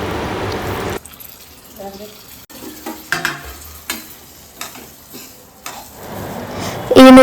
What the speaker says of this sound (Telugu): ఈ నువ్వుల్ని ఇలానే కొంచెంసేపు కలుపుతూ ఫ్రై చేసుకోవాలండి